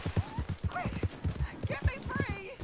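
Horse hooves clip-clop in a quick, rhythmic pattern in the Red Dead Redemption 2 video game, running under a man's loud, agitated speech.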